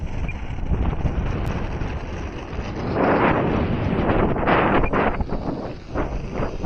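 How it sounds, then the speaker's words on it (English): Gusty wind buffets the microphone outdoors while a Seawind Maiden model plane is flown, a loud roaring rush that swells and eases in waves. "Yeah, it's gusting up here."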